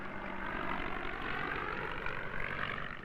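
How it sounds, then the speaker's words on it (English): A vintage Spad biplane with a very powerful engine for its era flies past, a steady, dense propeller-engine drone holding loud and constant throughout, with no talk over it. "This little Spad carried a very powerful engine for those days"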